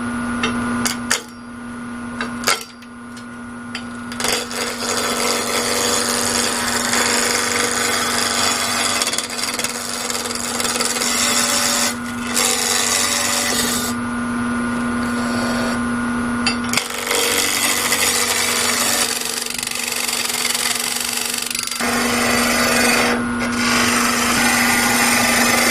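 Wood lathe spinning at about 1400 rpm while a tool cuts a 3.5-inch-wide backscratcher blank down to round: a steady motor hum under loud, continuous scraping and rasping that swells and eases as the tool moves.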